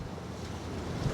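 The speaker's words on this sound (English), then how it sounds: "the waves breaking in here. It's pretty strong wind." Lake waves wash and break in a strong wind, a low rumbling surge with steady wind buffeting the microphone, fairly faint, with no talking.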